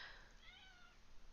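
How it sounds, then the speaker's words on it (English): Cat meowing: a single drawn-out meow that rises and falls, faint and low in level against a quiet background hum. "My cat is Tina."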